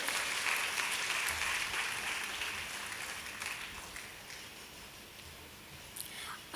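Applause fills a cultural award ceremony in Palakkad as a guest is honoured on stage, a broad steady clapping from an audience that slowly thins and fades over several seconds.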